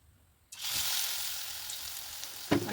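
Kharkol leaf pakoras in batter dropped into hot oil over medium heat, a sudden steady sizzle that starts after a moment of quiet and carries on close and alone, with a brief clatter near the end.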